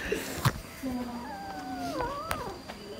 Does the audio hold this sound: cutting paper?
no